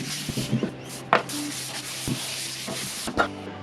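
Fine-grit sandpaper, around 400 to 600 grit, rubbed by hand over a recycled timber coffee table, giving soft uneven scratchy strokes with occasional sharper scuffs, close and moderately quiet.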